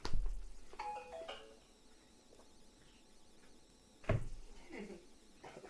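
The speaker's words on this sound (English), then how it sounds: "My tablet over there yelling at me." A tablet plays a short chiming notification alert, a bright doorbell-like tone heard once near the start, in a quiet home kitchen with soft background noise and a thump later on.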